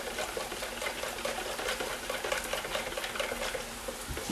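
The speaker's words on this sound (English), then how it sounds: "So mix that all together, you get a lovely emulsion." Salad dressing of oil and other ingredients is whisked into an emulsion, making a steady, close, wet clicking and stirring rhythm that continues throughout.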